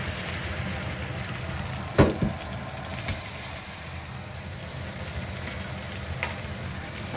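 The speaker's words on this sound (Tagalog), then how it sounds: "Scramble eggs for my breakfast." Scrambled eggs fry in a pan for a home breakfast, a constant hissing sizzle with a few sharp clinks and scrapes from stirring, close up and with no voices.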